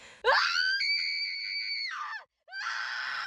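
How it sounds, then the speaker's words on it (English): A woman lets out a long, piercing scream into the night that rises and holds, breaks off, then starts again with a second shrill cry. "scream ripped through the night"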